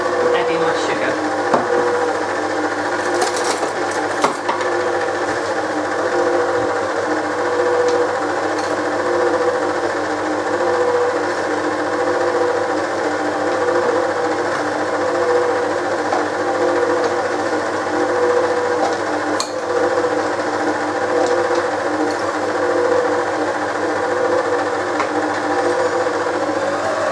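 An electric mixer runs on low while caster sugar is added to butter for cookie press dough, giving a steady, loud mechanical whirr that holds an even drone throughout with a few brief clatters.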